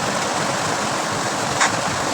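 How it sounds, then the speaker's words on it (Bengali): Steady, dense broadband hiss of heavy rain, continuous and loud throughout with no talking. "বাইরে প্রচণ্ড বৃষ্টি শুরু হয়েছে, আওয়াজ নিশ্চয়ই শুনতে পাচ্ছেন।"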